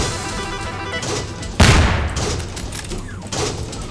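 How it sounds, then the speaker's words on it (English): A bolt-action sniper rifle in a Doom 3D game mod fires one loud, sharp shot about halfway through, with a booming tail that fades over a couple of seconds. A fainter second blast follows near the end, over steady game background noise. "Okay, a bolt action sniper rifle."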